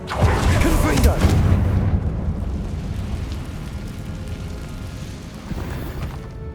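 A Confringo fire-blast spell going off in the Hogwarts Legacy game, a heavy booming burst at the start that rumbles and fades into a long, dense roar, with no talking.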